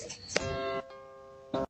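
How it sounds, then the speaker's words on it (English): A doorbell rings at a man's house with two bright chiming tones, close and fairly clear, separated by a short pause against faint room noise. "She's at the man's house ringing his doorbell."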